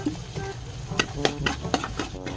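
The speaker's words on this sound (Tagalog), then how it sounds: "Mainit na yung mantika. Ilalagay ko na yung bawang. Papitong sibuyas. Yung hotdog na maliit." Garlic, onion and small hotdogs frying in hot oil, a steady close sizzle broken by several sharp scraping and clattering stirring knocks.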